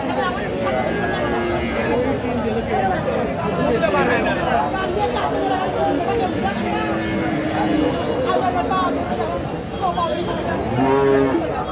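Friesian heifers at a crowded cattle market in Bogura low and moo repeatedly over constant crowd chatter and someone talking, the animals close and the hubbub filling the whole stretch.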